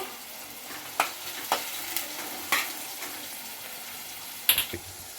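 Curry leaves and chillies frying in hot oil, giving a steady low sizzle broken by a handful of sharp pops and crackles spaced about a second apart, close up with no talking.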